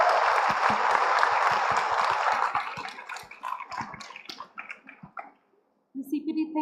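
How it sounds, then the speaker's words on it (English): An audience at a school professional-development day applauds the art team, full clapping that thins into scattered claps and stops, followed by talk. "Let's give a big round of applause for the art team here."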